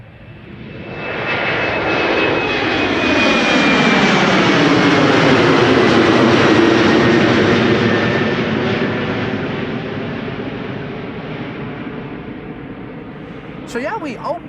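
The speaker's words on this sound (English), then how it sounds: "And this is KLM flight 1139 to Dublin, coming this way, Embraer 190." A KLM Embraer 190 jet heads out from Amsterdam Schiphol toward Dublin, its engine roar swelling loudly as it passes close by and then fading with a falling whine, while people talk faintly underneath.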